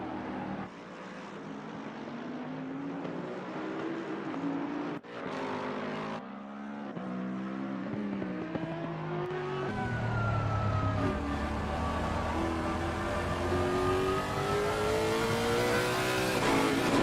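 A GT race car engine in Assetto Corsa Competizione at Hungaroring, heard from on board, drones and revs steadily, its pitch rising and falling through gear changes, loud and continuous throughout.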